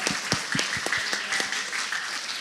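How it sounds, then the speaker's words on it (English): Audience at a school closing ceremony applauding the media team, lively clapping with distinct close hand claps over a broader wash, and a faint voice underneath. "so a round of applause."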